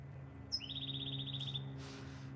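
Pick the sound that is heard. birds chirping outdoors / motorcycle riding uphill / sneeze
birds chirping outdoors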